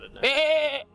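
A person imitates a goat with a single nasal, wavering bleat lasting under a second, close and fairly loud.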